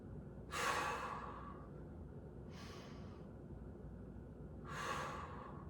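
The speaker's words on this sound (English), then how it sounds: "I want you to give me 5 big breaths here." Deep breaths taken while kneeling in an exercise routine: three distinct breathy exhales, the first and last fuller and louder, the middle one softer, over a low steady room hum.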